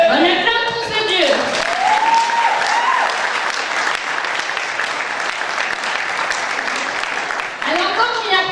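A church congregation claps in sustained, dense applause that runs throughout, with voices calling out and cheering over it at the start and end.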